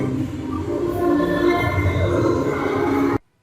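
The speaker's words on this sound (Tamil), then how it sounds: "ட்ரெயின் போயிட்டு இருக்கு பாருங்க, சுத்தி போய்கிட்டே இருக்குங்க." Mall ride train circling inside a shopping mall in Coimbatore, a steady loud rumbling run with a humming drone, cutting off abruptly near the end.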